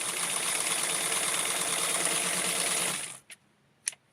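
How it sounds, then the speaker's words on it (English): Sewing machine stitching doll clothes for a Francie fashion doll, a steady close mechanical whir for about three seconds before it stops, followed by two faint clicks. "not supposed to sew it all the way to the end"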